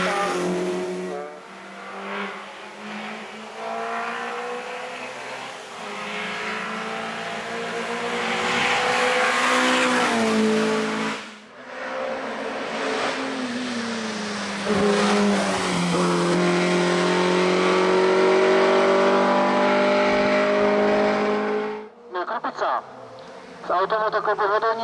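A Škoda 130 LR race car revs hard and accelerates at the Ecce Homo hill climb in Šternberk, its engine loud and sustained for most of the stretch, with a brief dip midway and a commentator talking over it.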